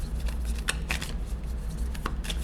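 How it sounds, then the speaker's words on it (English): A deck of Nightmare Before Christmas tarot cards is shuffled by hand, with irregular crisp riffles and slaps over a low steady hum, close and fairly quiet, with no talking. "so let's shuffle the deck"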